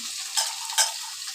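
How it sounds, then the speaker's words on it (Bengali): Gourd peel and finely sliced potatoes frying in a pan, a steady close sizzle with two brief louder bursts as the pieces are stirred. "এবার আমি এগুলো ভেজে নিই আগে লাউয়ের খোসা আর আলু ঝিরি ঝিরি করে কেটেছি সেগুলো আগে ভেজে নিই"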